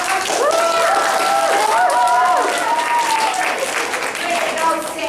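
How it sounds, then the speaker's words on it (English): An audience applauds during a water-themed quiz game show, with dense, steady clapping and crowd noise that stays loud throughout and voices rising over it. "Let's give a big round of applause."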